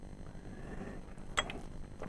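A camper door on a 2021.5 r-pod RP193 friction-hinged RV gives a short, close creak with a brief mechanical clack as it swings open, over a faint low background hum.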